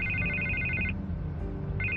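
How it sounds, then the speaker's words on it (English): A telephone rings in the Batman The Telltale Series video game, a high electronic trill that stops and starts again over a low background hum, with no talk. "I can't get the phone to stop ringing."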